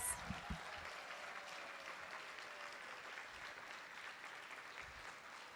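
Applause for honorees at a chamber of commerce centennial celebration, a steady, fairly faint wash of clapping from a crowd that carries on without pause and stays level throughout.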